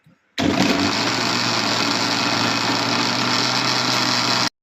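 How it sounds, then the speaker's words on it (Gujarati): An electric kitchen mixer grinder whirs loudly and steadily as it blends raw-mango aam panna ingredients, a close, high-pitched motor whine running unbroken for several seconds before stopping abruptly. "આપણે આ રીતનું દળી લેવાનું છે, એટલે જેથી કરીને મિક્સ બધું થઈ જાય સરસ રીતે"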